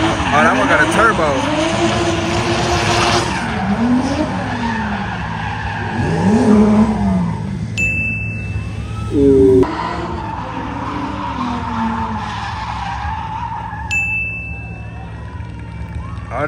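Turbocharged cars drifting at a professional drift track, engines revving and sweeping up and down in pitch with tire squeal, loud and fairly close, while spectators talk over them.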